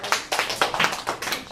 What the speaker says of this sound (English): let's first of all give them a round of applause.